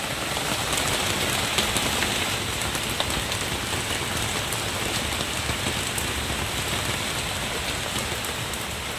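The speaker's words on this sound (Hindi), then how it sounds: "कितनी तेज बारिश आ गई भैया एकदम से।" Heavy rain pours steadily among trees, a dense, constant hiss of drops without pause, close and loud throughout.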